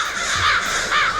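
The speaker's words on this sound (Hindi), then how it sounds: "अब ये तो ब्लैक क्रोस है।" Crows caw repeatedly in a movie scene, with harsh calls rising and falling over a steady flock din, loud and close with no talking.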